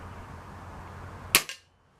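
A single sharp crack from a BSA Airsporter Mk6 air rifle, close and abrupt, its piston thudding, with a short metallic ring from the target plate fading quickly into silence after steady low background noise.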